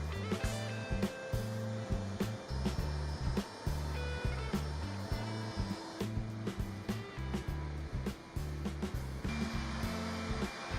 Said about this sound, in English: we continue with the polishing pads on the edges, including the use of our Clindex machine and some hand polishing as well